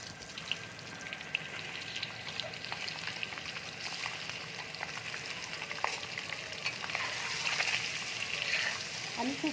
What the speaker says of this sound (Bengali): এবার ডিমগুলো আমি তেলের মধ্যে ছেড়ে দিচ্ছি।